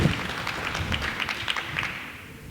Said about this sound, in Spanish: Puedes dar una ofrenda de palmas.